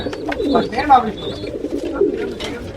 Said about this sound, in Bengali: খুবই সুন্দর কবুতর, অবশ্য ডিম দিছে